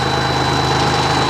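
Log skidder engine idling steadily and loud, close by, with a deep continuous rumble and faint vibration as it pushes steam locomotive No. 9 at a festival rail yard in Shedden, Ontario.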